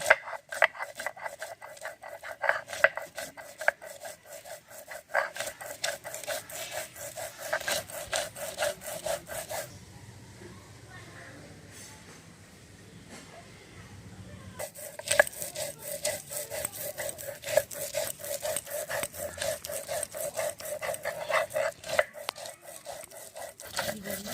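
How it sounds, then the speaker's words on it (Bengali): Sweet corn being ground on a stone grinding slab gives a rapid, rhythmic rasping scrape of stone rubbing on stone, steady and close, pausing for several seconds midway before resuming. "এগুলো এবার শিলি বেটে নেব।"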